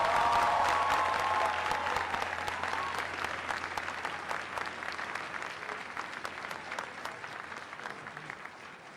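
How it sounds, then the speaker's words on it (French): Audience applause greeting the entrance of the Burkina Faso team at an oratory debate final against Chad, a dense, sustained clapping crowd that starts strong and slowly thins over several seconds. "merci d'applaudir l'entrée de l'équipe de Burkina Faso,"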